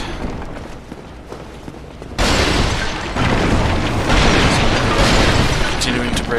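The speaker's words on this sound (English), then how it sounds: "Black fire bomb, alright." A black fire bomb bursts in Dark Souls: a sudden loud boom jumps in partway through, followed by a sustained roaring crackle that swells and holds to the end, over quieter ambience before it.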